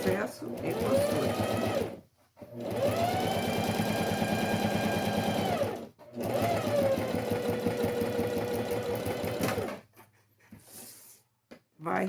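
A sewing machine runs in long bursts while stitching a fabric box pouch, with a backstitch at each end of the seam. The motor whirs steadily for several seconds, pausing between runs, with a faint voice near the end.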